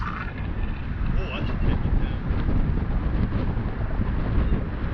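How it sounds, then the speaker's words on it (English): Strong wind buffets the microphone on a golf course, a steady loud roaring rush with gusting swells throughout, heard alone. "This wind is coming directly at us."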